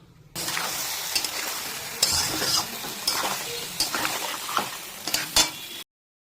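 Mixed vegetables with mustard paste being stirred in a frying pan, a steady sizzle under repeated scraping strokes and clinks of the utensil against the pan, close and continuous for several seconds before cutting off.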